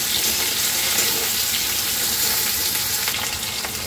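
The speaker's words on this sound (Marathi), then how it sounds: "तर मी इथे टाकते बटाट्याचे काप. ते सुद्धा छान असे फ्राय करून घ्यायचे आहे." Potato slices fry steadily in a pan over medium-low flame, a loud, continuous sizzle with a dense crackle and no pauses, heard close up.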